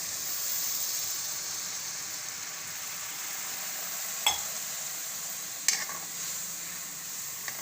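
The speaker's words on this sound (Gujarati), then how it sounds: "અને હવે આપણે આને સરસથી સડવા દઈશું." After water is added, a cashew garlic curry bubbles in the pan with an even, hissing simmer, broken by a couple of brief spoon clinks, close up and without talk.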